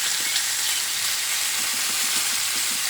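Pork loin sizzles on a cast iron griddle with a dense, steady frying hiss, broken by soft popping and crackling spatters.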